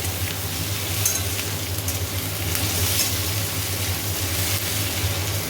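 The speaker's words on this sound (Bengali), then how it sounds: "আমি আলুটা একটু ভেজে পেঁয়াজগুলো দিয়ে দিয়েছি পেঁয়াজগুলো ভাজা ভাজা হয়ে যাবে" Potatoes and onions frying in a pan, a steady, close sizzle and crackle with a low stove hum underneath, continuous and fairly loud with no talking.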